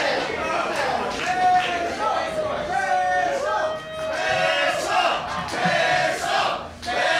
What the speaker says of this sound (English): The crowd calling for a kiss one more time.